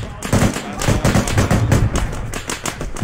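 Game gunfire from an Arma 3 battle on a Pacific island, a steady stream of rapid shots running the whole time beneath a voice calling out.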